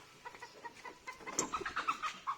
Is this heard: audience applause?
no